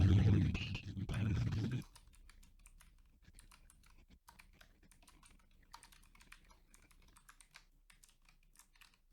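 Rapid typing on a computer keyboard, close and clear, with irregular bursts of key clicks after a brief loud opening noise.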